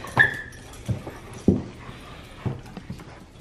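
Excited dogs greeting someone up close, with a sharp whining yip at the start followed by a few snuffling whimpers and soft thumps and scuffles, loud and intermittent over a quiet background.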